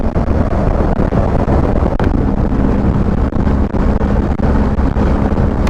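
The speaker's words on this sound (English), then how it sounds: "It's quite windy." Strong wind buffets the microphone during a 70-kilometre mountain bike ride in cold, windy hills, a loud, continuous roaring rumble with gusty surges and no voices.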